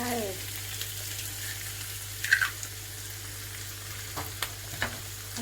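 An egg frying in a pan for homemade fried rice gives a steady, continuous sizzle with a few faint stirring clicks, close by and without talk.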